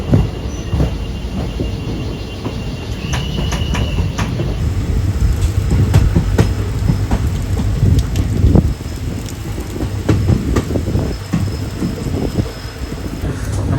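A train climbs toward Castle Rock station at the top of the Braganza Ghat in heavy monsoon rain, its wheels rumbling and clattering steadily, with faint squeals over a constant wash of rain.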